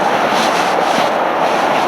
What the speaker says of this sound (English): That's not a cave, that's a train.